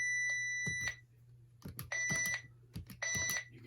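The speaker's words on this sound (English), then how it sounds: "You can turn the beep on and off by pressing the nose." Three bursts of high electronic beeping from a 2005 iDog robot dog toy in test mode, each lasting about half a second, separated by short pauses over a steady low hum.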